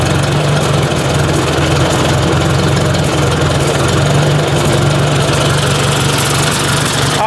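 A Ford 800 tractor engine idles low and slightly unevenly after warming up, a steady close mechanical rumble with a throbbing pulse that runs the whole time without pause or talk.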